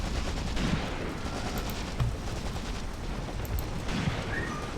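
Gunfire in the WWII tank-battle video game Graviteam Tactics: Mius-Front, a steady crackling wash of distant rifle and machine-gun fire with a few heavier thumps standing out, continuous and fairly loud throughout.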